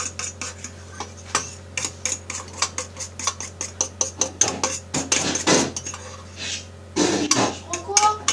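Bowls and dishes clatter as a salad bowl is fetched from a kitchen cupboard, a close run of sharp clinks and knocks with a louder burst of rattling, while people talk nearby.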